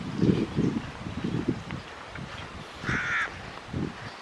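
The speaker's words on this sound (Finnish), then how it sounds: "lintu." Outdoor crow cawing, a run of harsh caws in an uneven rhythm at moderate distance, with light wind around.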